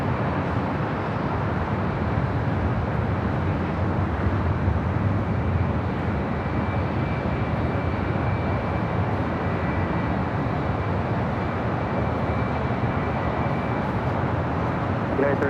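Airliner taking off from runway 24 left at LAX, a steady broadband jet roar holding loud and even throughout, with a faint steady whine riding above it.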